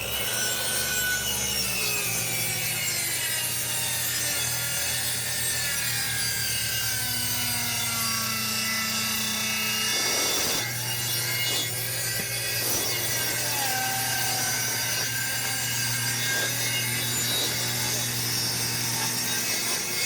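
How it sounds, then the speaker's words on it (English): Circular saw ripping along a line through rotted plywood subflooring near an RV slide-out, a loud continuous whine and rasp of blade in wood with brief changes in load, heard close and without talk. "now we're going to take the circular saw and go on our line, cut that open so we can remove this"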